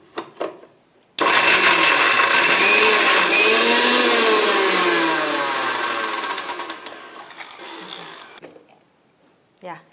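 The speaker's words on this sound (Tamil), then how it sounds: "இதை கிரைண்ட் பண்ண போகிறேன்." A mixer grinder whirs loudly for about seven seconds, grinding garlic paste for a fish fry, its pitch wavering as the paste churns before it winds down, with brief faint sounds before and after.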